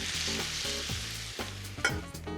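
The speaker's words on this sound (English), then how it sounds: "we can throw our eggs right in here" Eggs hitting a hot pan already holding provolone cheese for a brunch dish, giving a steady loud sizzle with sharper crackling bursts as they land, no talking.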